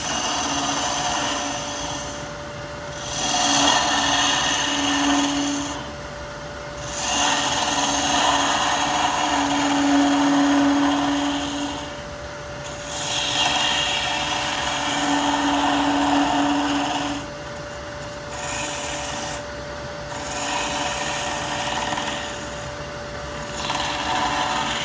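Wood lathe spinning a small cedar hollow bowl while a gouge cuts the front, a steady motor hum under repeated rasping passes that swell and fade every few seconds, loud and close, no talking.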